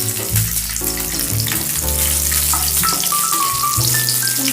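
Onions frying steadily in a pan at the start of a chilli paneer gravy, a loud continuous sizzle with broadband crackle and occasional stirring, no talking.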